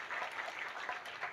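A short burst of scattered clapping from an audience at an Indonesian religious gathering, soft and uneven with a few louder claps standing out.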